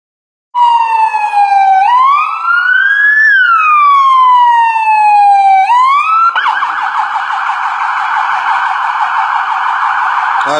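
Ambulance siren at a road race in Muriaé, MG: a loud, close wail that rises and falls in long sweeps, then switches to a rapid, steady warble, with no talking.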